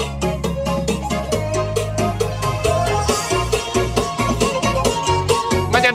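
Loud, bass-heavy music plays through the two-subwoofer sound system of a premium boat, with a steady thumping beat and a dense, full mix that continues without pause.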